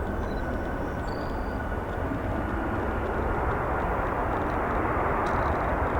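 Jet aircraft at O'Hare International Airport with many arrivals and departures, a loud, steady broadband engine roar that holds without a break for six seconds, with no voices.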